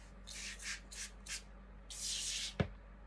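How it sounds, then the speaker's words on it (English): Several short hissing bursts of an aerosol foam cleaner sprayed on a nylon strap, followed by a longer sustained hiss and a brief sharp knock, fairly close. "So spray this foamy stuff"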